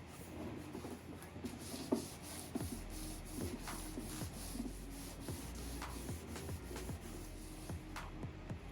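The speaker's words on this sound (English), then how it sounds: "Tack cloth action." A tack cloth wipes over sanded scrap wood for an air-pistol pellet trap, giving repeated soft rubbing strokes in an irregular rhythm, close and quiet, with no one talking.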